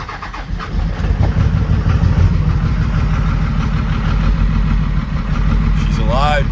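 Dodge Cummins diesel engine from 1998–2002, fitted with new injectors, cranks over and catches, then runs at a loud, steady rattling idle close by, with a voice speaking briefly near the end.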